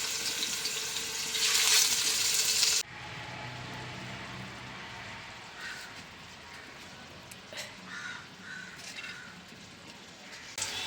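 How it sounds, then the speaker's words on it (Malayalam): Pieces of fish frying in coconut oil in a pan for a Kerala-style pepper fish fry, a loud close hiss that drops to a quieter sizzle with light scattered crackles. "ഇപ്പോൾ എന്തായാലും നമ്മുടെ മീൻ കഷ്ണങ്ങളെല്ലാം നമ്മൾ ഇപ്പം വറക്കാൻ വേണ്ടിയിട്ടിരിക്കുകയാണ്"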